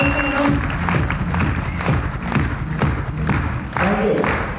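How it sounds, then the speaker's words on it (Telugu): An audience at a company presentation claps together in a sustained, dense round of applause, with scattered thumps and crowd noise filling the room. "బిగ్ క్లాప్స్ ఇవ్వండి ఒకసారి"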